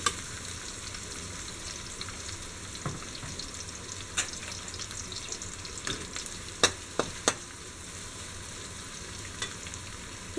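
Chopped red onions sautéing in a pan for a Kerala-style beef biryani, a soft steady sizzle with occasional sharp clicks of a spoon stirring against the pan, close and quiet.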